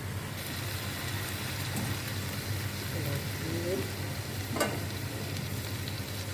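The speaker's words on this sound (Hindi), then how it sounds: "दूसरी तरफ हम पैन में चिकन को फ्राई कर लेते हैं।" Chicken frying in oil in a pan for a chicken karahi, a steady broadband sizzle holding at an even level throughout, with a brief sharper crackle near the end.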